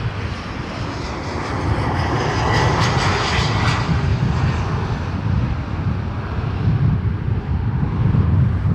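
An Airbus A330neo jet engine roars loud and steady at Toronto Pearson Airport, a broad sustained rumble that swells as the aircraft passes, with wind buffeting the microphone throughout.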